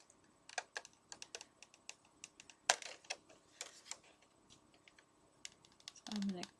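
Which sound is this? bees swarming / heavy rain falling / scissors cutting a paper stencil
scissors cutting a paper stencil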